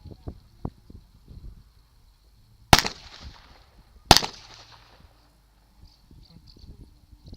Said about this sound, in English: the young lady's going to fire Old Loudmouth for you now